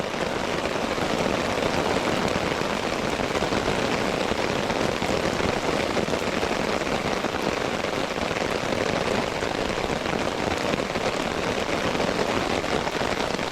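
Heavy rain pours steadily around a fishing kayak on a hot day, a dense, even hiss of drops drumming on water and surfaces with no letup.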